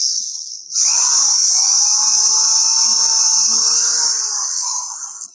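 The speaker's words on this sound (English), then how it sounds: "you're going to take the drill and pre-drill" A loud, steady high-pitched power drill whine pre-drilling wood for screws runs almost continuously after a brief start, close by, with faint lower mechanical tones beneath.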